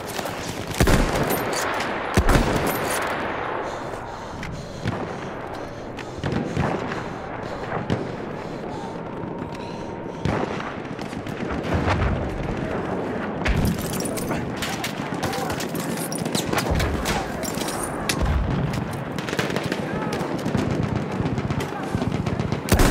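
Sustained enemy machine gun fire in Battlefield 1, rapid rattling bursts and scattered shots from several weapons across the whole stretch, loud and continuous with occasional heavier impacts.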